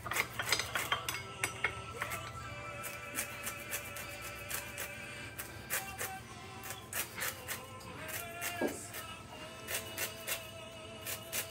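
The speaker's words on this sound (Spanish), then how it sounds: "Bien, voy a rallar la naranja. Solo necesitamos la ralladura." Orange zest grated by hand for a bread pudding, giving a rapid series of soft scraping rubs against the grater with light metallic clinks, fairly quiet and close, with no talking.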